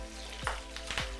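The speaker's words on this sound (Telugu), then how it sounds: "ఓకే పోపులో కూడా మనం కొంచెం పసుపు వేసుకోబోతున్నాం." Turmeric stirred into hot tempering oil with curry leaves for aavapodi rice, a close, steady sizzle with a few sharp stirring scrapes, no talk.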